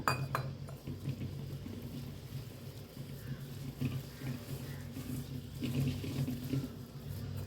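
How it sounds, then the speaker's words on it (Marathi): Water is poured into pakora batter while it is mixed by hand, giving a soft, wet splashing and squelching with occasional light clinks of a vessel, fairly quiet and close. "मिक्स करून पाणी ओतून चांगलं मिक्स करून घेऊया।"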